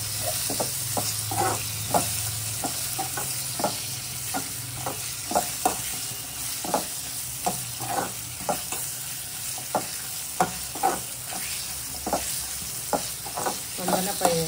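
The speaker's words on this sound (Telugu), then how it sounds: "తొందరగా ఫ్రై అయిపోతుంది." Mutton liver with salt and turmeric frying in a pan, a steady sizzle broken by frequent sharp scraping stirs at a fairly regular pace, close and alone with no voices.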